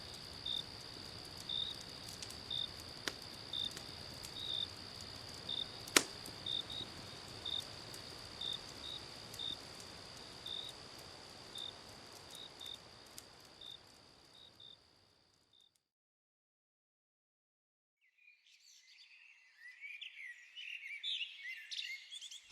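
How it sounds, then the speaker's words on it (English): Crickets chirp steadily at night in a fast, even pulse at moderate distance, fading out partway before faint high chirping returns near the end. "Only the sound of wood crackling under the flames, a gentle breeze, and the night crickets can be heard."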